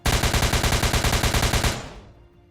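Rapid automatic gunfire blasts at a window in the ERLC game, about twenty even, loud shots in quick succession before cutting off and fading into a short echoing tail.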